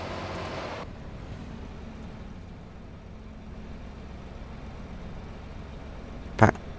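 A tractor driving in Farming Simulator 25 on the Alma Missouri farm map, its engine a steady low droning rumble that holds evenly throughout, with a brief louder burst right at the end.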